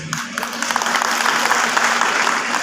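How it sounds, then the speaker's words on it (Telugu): A crowd claps steadily for a speaker at a political speech event, a dense, sustained applause that holds at an even level throughout. "వారికి అందరూ చప్పట్లు కొట్టాలి కోరుతున్నా"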